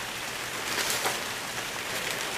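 Heavy rain pours down in a steady downpour, a dense, even hiss of drops pattering on surfaces close by, constant and unbroken throughout, with no voices.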